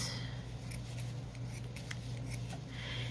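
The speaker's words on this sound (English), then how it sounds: "I'm gonna grab, cut me another piece of the felt." Scissors cutting through a piece of felt, a continuous crisp snipping and rasping close up, steady and fairly loud throughout over a low background hum.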